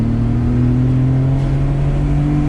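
A 1994 Nissan Skyline GTR driving, its engine holding a loud, steady mid-pitched drone with a slight rev swell, close and continuous throughout with no talking.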